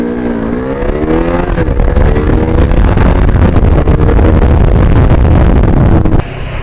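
A KTM RC 390 motorcycle runs at top speed, its engine droning loud and steady under heavy wind roar, with the pitch rising early on before holding high. The recording is close, with no talking, and fades slightly at the end.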